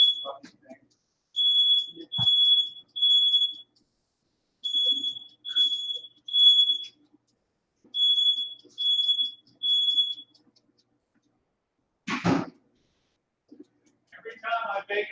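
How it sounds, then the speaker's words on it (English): A kitchen smoke detector goes off while bread bakes, sounding repeated groups of three loud, high-pitched beeps, followed near the end by a sharp clatter and a brief voice. "let me turn on this smoke detector."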